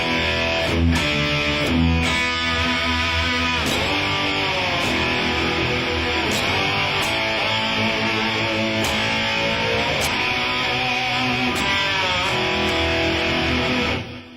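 Distorted electric guitar with the whammy bar pulled to bend notes, imitating a slide guitar; sustained gliding notes with swoops and picked attacks play continuously and loud, alone without talk.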